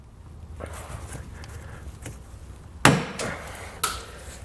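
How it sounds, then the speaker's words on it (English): Regular snips cut plastic trim, with a hidden bit of metal, under a 2022 Hyundai Palisade during a trailer hitch install, giving two sharp crunching snaps after faint handling clicks and taps, without speech. "I'm just going to use a pair of regular snips here and cut a little bit of it off"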